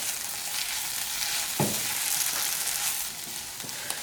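Garam masala and coriander powder sizzle in a pan for Kerala-style chicken curry. There is a constant close frying hiss and a brief scrape of stirring partway through, with no voices.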